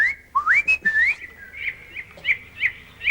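A man whistles in imitation of birds, bright sliding chirps and warbles followed by a run of short repeated tweets, close and clear with no talk over them.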